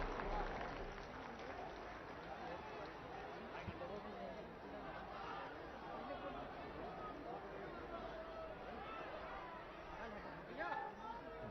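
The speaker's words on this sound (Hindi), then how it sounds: "आप सबकी जोरदार तालियों के बीच" Crowd at a public government event cheers and applauds, a steady dense wash of clapping and chatter filling the space from start to finish with a brief swell near the end.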